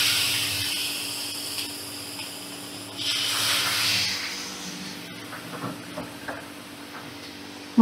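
Milk and water are poured into hot pan-roasted semolina over high flame, giving a soft hissing sizzle that rises for a second or so, then fades into faint bubbling and a few light knocks.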